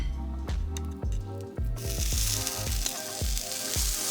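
Bamboo flour keto chaffle batter sizzles steadily in a chaffle maker, a broad hiss that swells louder partway through, with a series of soft rhythmic knocks and thumps close by and no talking.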